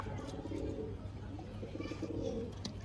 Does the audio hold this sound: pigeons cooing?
yes